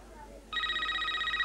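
A telephone starts ringing partway through with a steady, electronic trill that carries on loudly and continuously, heard over the faint background of a 1995 country football grand final broadcast.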